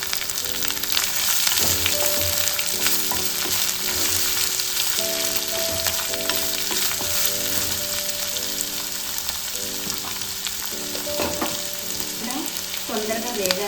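Onions fry with ginger-garlic paste in a pan, giving a steady dense sizzle throughout, while a faint tonal hum or background music runs underneath and occasional stirring noises break in.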